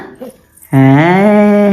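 A puppy lets out a sustained, loud, rising whimper close by after a brief quieter moment, with a few faint voices and a soft earlier sound before it.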